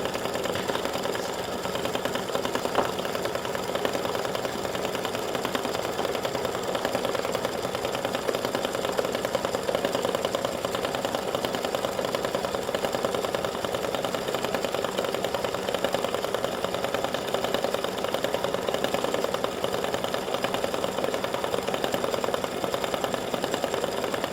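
An embroidery machine stitches green lettering onto card stock for a get-well greeting card, a steady continuous mechanical whir with a fast rapid needle rhythm that holds even and close throughout, with no voices.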